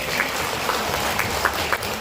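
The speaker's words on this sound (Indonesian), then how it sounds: "Tepuk tangan dong." An indoor audience claps at a talk, producing a continuous dense patter of applause with scattered sharper claps standing out over roughly two seconds.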